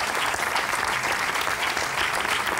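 Audience applause at a Canarian parranda music show, a dense burst of steady clapping that fills the whole moment without pause.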